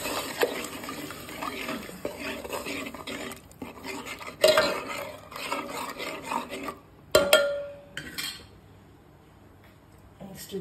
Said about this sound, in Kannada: ನೆಕ್ಸ್ಟ್ ಇದಕ್ಕೆ ಒಂದು ಟೊಮೆಟೊ ಹಾಕಿ ಚೆನ್ನಾಗಿ ಮಿಕ್ಸ್ ಮಾಡ್ಕೋಬೇಕು